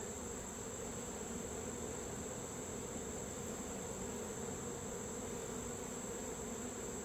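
A honeybee hive is open for inspection, and the bees give off a continuous, even buzz with a steady high whine. The hum stays constant and quite faint throughout, and no voices come through.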